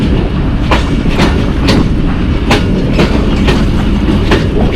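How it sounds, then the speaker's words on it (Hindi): Mehr Express passenger train on Pakistan Railways approaching Kundian Junction, heard from on board as a loud, continuous rumble with regular clickety-clack wheel beats over the rail joints. "कुंदियाँ जंक्शन पे अप्रोच कर रही है 128 डाउन मेहर एक्सप्रेस"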